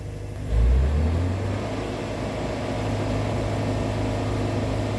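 Sawmill running after a drive belt replacement, making its first cut: a loud low engine and blade drone with a brief surge at the start, then a steady continuous roar.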